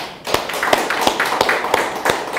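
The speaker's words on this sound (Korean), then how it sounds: "하나님께 영광의 박수를." A church congregation applauding during a Sunday service, a brief burst of rhythmic, fairly loud claps in steady beats, heard close with no talk over it.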